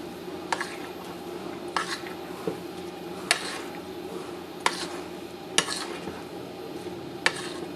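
A spoon stirs custard into fruit for a trifle, scraping and knocking softly against a bowl in irregular clinks about once every second or so, quiet and close.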